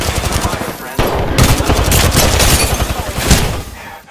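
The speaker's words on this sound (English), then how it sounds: "I'm taking fire, friend." Rapid automatic gunfire in the battle royale shooter Apex Legends, loud dense bursts of shots with a brief pause, then more sustained firing close up, with game sound effects layered in.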